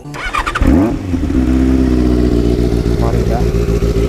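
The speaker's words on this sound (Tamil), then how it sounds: "எக்ஸாஸ்ட் நோட்டை காட்டுறேன், பார்த்துக்கோங்க. வண்டி ஸ்டார்ட் பண்ணிக்கிறேன்." A Benelli 600i motorcycle cranks and fires up, then settles into a loud, rumbling idle with a pulsing exhaust note and small revs, close by, with a voice speaking over the start.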